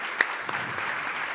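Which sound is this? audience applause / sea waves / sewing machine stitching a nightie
audience applause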